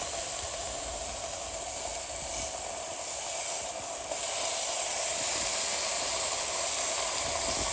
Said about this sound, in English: As you can hear, a nice sizzle.